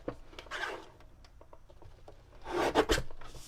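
Crumb cake coloured cardstock for a die cut card is trimmed with a paper trimmer, giving close, quiet rubbing and slicing scrapes, with two louder swishing strokes of the blade.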